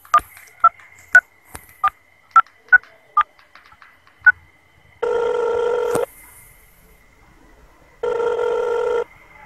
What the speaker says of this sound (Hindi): सुमित को फोन करके बोलता हूँ